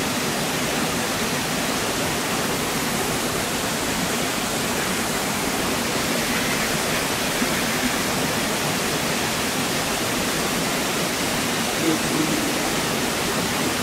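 A waterfall roars as a loud, constant broadband rush of falling water, unbroken and close, with no clear voices above it.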